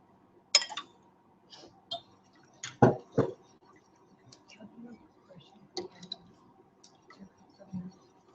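Whisk clacking and scraping against a pan as milk is worked into a butter and flour roux for a French sauce, a run of irregular close clicks and taps with soft wet squishes.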